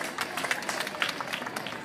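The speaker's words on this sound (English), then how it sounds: "Applause para ustedes." A children's crowd applauds after a maracas sing-along at Federation Square in Melbourne, a steady, fairly faint patter of many hands clapping outdoors, filling the moment without a break.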